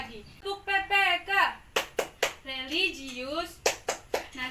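A class of primary school pupils claps the PPK clap rhythm in a classroom. Sharp, fairly loud bursts of clapping alternate with a chanting voice, and a teacher speaks between the claps.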